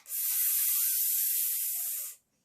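A voice imitates a pressure cooker whistle with a single long, loud, steady hiss lasting about two seconds, then stopping abruptly.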